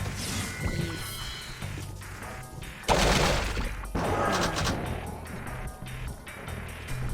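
Gunfire from a big gun in the video game Jak 2, bursts of loud shots and crashes clustered around the middle amid other game noise, with no talking.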